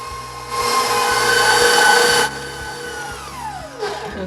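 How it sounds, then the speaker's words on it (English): Electric hand mixer beating sugar into cream cheese pound cake batter, a loud close whirring drone that swells for a couple of seconds, then drops to a lower hum with shifting pitch. "And then beat this for about 2 minutes till it's really fluffy."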